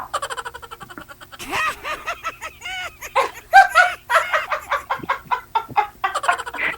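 A laughing-chicken sound effect on a live radio program: loud, close bursts of clucking and cackling in uneven rhythmic pulses, mimicking laughter, with a few sharper squawks toward the end.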